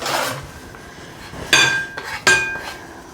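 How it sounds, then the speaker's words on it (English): Metal pastry scraper scraping cookie dough off a kitchen counter, two sharp clinking scrapes with a quieter scrape before them, close and clear with no talk. "I'm going to start scraping this off"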